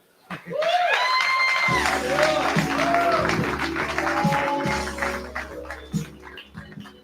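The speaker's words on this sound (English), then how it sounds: "Y'all applaud the poet." Audience at a live poetry event applauds and cheers, a broad wash of many hands clapping with whoops and shouts, rising quickly and holding for several seconds before thinning out, with scattered voices calling over it.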